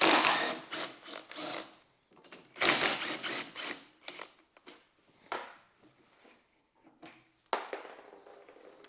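A ratchet clicks in short, uneven mechanical bursts with pauses between them as a 13 mm bolt is worked loose during a tip fix kit install on an ICEAGE Matryx, heard up close.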